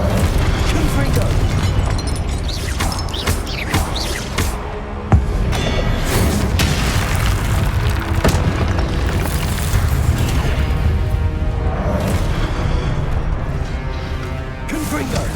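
Fiery Confringo spell blasts from Hogwarts Legacy boom repeatedly over dense game noise and a cast voice, with one sharp crack standing out near the middle.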